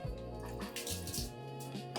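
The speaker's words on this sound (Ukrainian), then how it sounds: "Вода вже у нас пішла." Water runs from a shower hose through a water filter, a steady close flow with light dripping and splashing, no speech.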